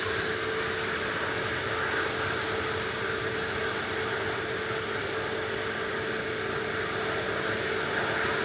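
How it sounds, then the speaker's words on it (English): A TUI Boeing 787-9 Dreamliner taxiing at Manchester Airport, heard as a steady, continuous jet engine whine and broad rumble held at an even level throughout, with no voices. "TUI Dreamliner is on Victor Bravo, going to Mahon"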